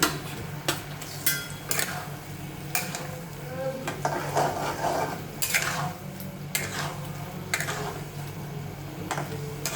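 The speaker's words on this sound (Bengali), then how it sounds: "এবার ভাজা আলুগুলো একটা একটা করে ছেড়ে দিচ্ছি।" Fried potatoes drop one by one into a pan of simmering curry, each making a distinct clatter and splash at irregular intervals over a soft, steady sizzle.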